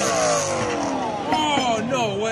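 A car engine revs hard and loud, its pitch wavering up and down in a sustained, straining howl with no break or blowout within the moment.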